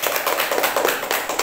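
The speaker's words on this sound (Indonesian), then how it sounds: "Tepuk tangannya mana?" Students in a classroom clap their hands together, a short burst of close, dense applause with quick overlapping claps lasting under two seconds.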